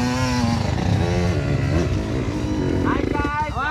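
A trail motorcycle engine revs in rough, throbbing bursts on an off-road ride while voices call out over it, and the engine stays loud and close throughout.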